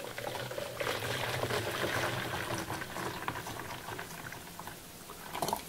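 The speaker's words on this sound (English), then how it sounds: "Stick our 1 litre of hot water in some kind of glass container" Hot water freshly boiled in a kettle, one litre, poured steadily into a glass container, a continuous loud splashing gush that tapers near the end.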